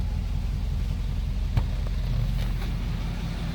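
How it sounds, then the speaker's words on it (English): A 1949 Mercury Eight engine idles steadily, a continuous low rumble with a faint tick or two, heard up close and alone. "Listen to that car run."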